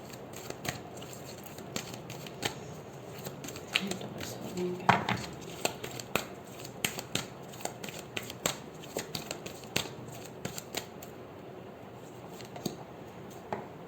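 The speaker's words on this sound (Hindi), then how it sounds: "दो कार्ड्स मैं ऑरिकल से निकालूंगी।" Oracle cards are drawn and shuffled from a deck in a string of close, crisp flicks and papery snaps, with light rustling between them.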